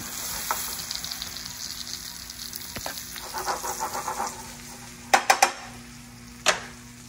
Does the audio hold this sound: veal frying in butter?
yes